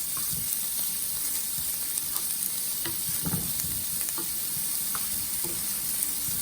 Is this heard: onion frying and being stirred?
yes